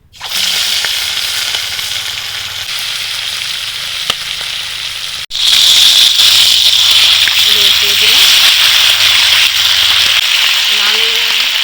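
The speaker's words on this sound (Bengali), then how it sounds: "এবার মাছগুলো ভেজে নেব।" Loud continuous frying hiss as rohu fish pieces fry in hot oil in a wok, surging louder midway as more fish is added, with faint voices and a low hum underneath.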